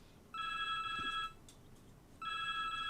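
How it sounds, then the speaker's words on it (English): A phone rings with an electronic ringtone in two bursts, the second following after a short pause, over a low background hum and with no talking. "your phone's ringing"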